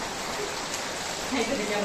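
Rain falling outdoors, a steady broadband hiss that fills the whole stretch at an even level, with faint voices in the background.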